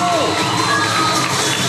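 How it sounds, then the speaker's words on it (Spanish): Audience at a folk gala cheering and shouting loudly, a dense continuous roar of voices with applause filling the whole moment close by. "¡Fuerte aplauso!"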